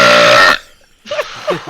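A loud, drawn-out burp right up close, followed by a brief pause and then people talking.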